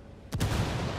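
A frag grenade bursts in the tactical shooter Ghost War, one sharp heavy blast followed by a rumbling low tail that lingers for the rest of the moment, with no talk over it.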